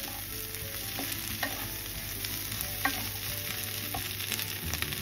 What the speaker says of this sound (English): I'm going to add mashed chickpeas. I'm going to saute them for 2 to 3 minutes.